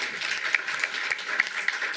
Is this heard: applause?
yes